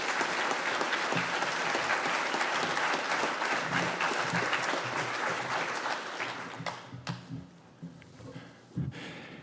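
Steady, full applause from a ceremony audience at a completion ceremony as a graduating student heads to the podium, sustained for about seven seconds before tapering off into a few last claps.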